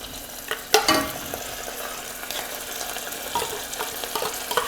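Tuna frying with garlic in oil in a pan, a steady close sizzle with occasional sharper crackles and the scrape of stirring, no voices over it.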